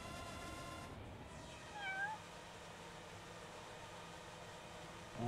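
A cat in the video game Judgment lets out a single short meow partway through, faint and thin over a steady hum of game background sound.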